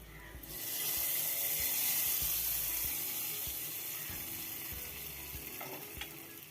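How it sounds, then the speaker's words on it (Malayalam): Sputtering mustard seed tempering is tipped into a dried prawn and mango curry, and a sharp sizzle bursts up within the first half-second, then settles into a steady hiss. Faint rhythmic knocks sit underneath. No one speaks. "കടുക് വറക്കൽ കഴിഞ്ഞു ഇനി ഇത് കറിക്കകത്തേക്ക് ചേർത്ത് കൊടുക്കുക"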